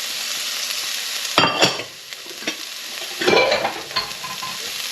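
Ginger and garlic fry on high heat for pork and kimchi fried rice, a loud steady sizzle with two bursts of sharper crackling and spatula scrapes as the pan is stirred.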